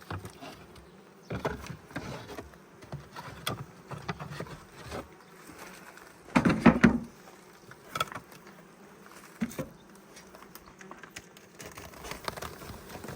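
Honeybees in a hive being slowly opened by a beekeeper, a soft steady buzzing with louder swells as the lid comes off, heard close and without talk.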